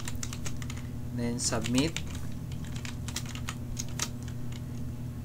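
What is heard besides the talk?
typing HTML code on a computer keyboard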